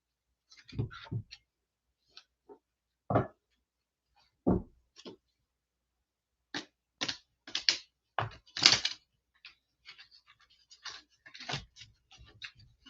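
Tarot cards are shuffled and riffled in quick, crisp bursts with pauses between, close up and fairly quiet, with no talking.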